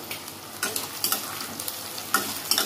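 Onions frying in a little oil in a pan make a continuous moderate sizzle, with crackles and stirring scrapes that flare up at irregular moments.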